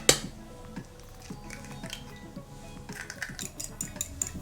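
A large egg beaten lightly in a bowl: a first clink, then a run of quick light tapping and clicking strokes that grows faster and sharper toward the end, close and alone.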